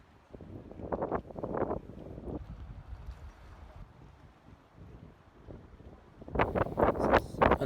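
Gusty wind buffets the microphone on a boat at anchor in the Mediterranean in rough bursts, rising and falling, with a louder rush near the end.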